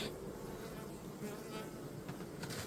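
Honeybees buzz inside a jar used for mating a queen bee, a soft continuous close drone of many wings, with a voice speaking faintly.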